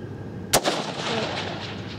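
A single sharp rifle shot fired through a scope at a shooting range cracks loudly and nearby, then trails off into a rolling echo over steady outdoor background noise.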